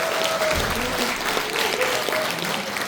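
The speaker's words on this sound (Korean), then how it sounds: "한 분 한 분 소개해드릴 때마다 힘찬 박수 부탁드리겠습니다" A crowd at a Democratic Party members' rally in Cheongju claps in a sustained burst of applause, dense and fairly loud, with faint voices underneath.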